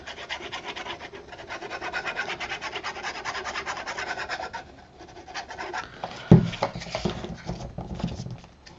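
Folded paper on a Christmas-themed shaker mini album being burnished with a rubbing tool: continuous close rasping strokes, then a sharp tap and a few scratchy rubs, with no speech.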